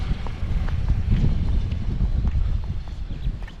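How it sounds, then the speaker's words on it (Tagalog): Wind gusts steadily over the microphone out in open countryside farmland, a low continuous rumble with a few faint ticks and no voices. "Ang sarap ng hangin dito sa bukid."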